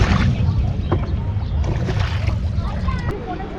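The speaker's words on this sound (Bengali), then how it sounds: "আমরা শিকারা করে যাচ্ছি 1 নম্বর গেটে" A shikara boat glides on a lake near Dal Gate in Kashmir, a continuous wash of sloshing water and wind-like rush, fairly loud and steady, with people talking over it.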